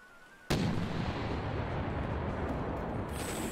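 A single loud video game cannon blast bursts in suddenly, followed by a sustained booming rumble and crackle that lingers for several seconds.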